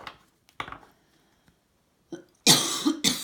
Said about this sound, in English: I will try and get through this without coughing too much.